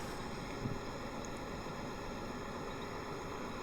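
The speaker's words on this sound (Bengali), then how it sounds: "বোট ছেড়ে দিয়েছে, আমরা যাচ্ছি ম্যানগ্রোভের উদ্দেশ্যে।" A boat pulls away on a river heading toward the mangroves, a steady, continuous rumble of engine and water with wind noise, heard alone without talk.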